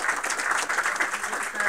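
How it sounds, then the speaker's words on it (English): Audience applause at a game studio milestone review, steady dense clapping throughout, moderately loud and close. "round of applause for all of you."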